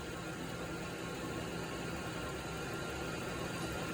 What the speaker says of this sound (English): I've been sitting here just listening to it idle, and it's idling solid